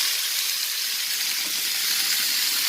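Dried turkey berries fry in hot sesame oil with a steady, loud, close hiss and sizzle that holds evenly throughout without pause.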